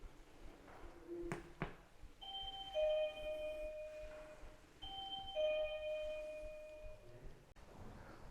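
A doorbell at a prison gatekeeper's lodge rings out: a couple of sharp taps, then two sustained electric bell tones, each ringing for a few seconds, loud and close, with no talking.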